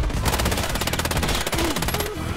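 Rapid automatic gunfire from the hip with a Magpul PDR C rifle in the online shooter Warface, a loud, dense, continuous burst of shots that stops briefly near the end and then resumes.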